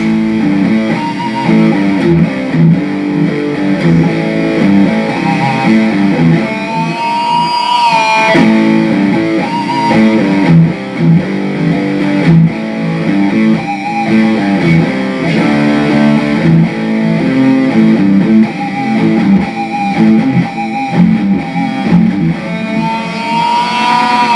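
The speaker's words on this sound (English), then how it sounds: "turn that effect off, and you have a very aggressive yet very creamy, bold, full-flavored distortion" Heavily distorted electric guitar played through a Vox Valvetronix AD50VT-XL modelling amp with the effect bypassed, a loud, dense, sustained stream of chords and riffs with no talking.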